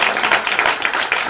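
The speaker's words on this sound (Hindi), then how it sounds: "तालियां" Audience applause at the launch of a web series, a dense, continuous wash of clapping from a sizeable crowd, loud and steady throughout with slight surges in intensity.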